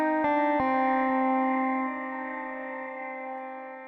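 A sustained synth chord struck a few times, ringing out through a convolution reverb with a lush, spacious tail that slowly fades.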